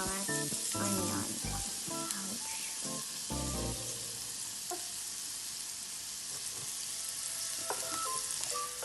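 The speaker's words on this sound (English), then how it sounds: "Now we need to saute it until it becomes turned to golden brown." Chopped onion sautéing in a pan for upma, a continuous hiss of frying oil with scattered crackles and pops, plus a few knocks and clatters of a utensil early on; no talking.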